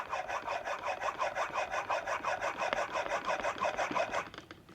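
A shoulder plane blade stroked back and forth on a medium-grit water sharpening stone, producing a quick, even rasping rhythm of about four strokes per second, close and steady, stopping just before the end.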